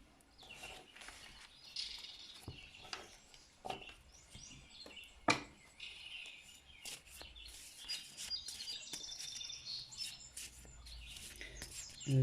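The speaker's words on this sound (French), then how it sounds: "J'espère que les oiseaux ne chantent pas trop fort pour vous." Small birds chirp and tweet outside, faint and distant, with scattered calls through a quiet room.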